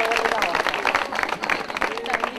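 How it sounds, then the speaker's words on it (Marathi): A school audience applauding a quiz winner, a short burst of crowded clapping close by with voices talking over and through the applause. "जोरदार टाळ्या वाजवत राहू देत."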